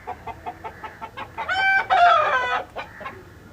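Backyard chickens clucking loudly near a terrace garden, a run of short rhythmic clucks building into loud drawn-out squawking calls, then a few clucks again, close and with no talk.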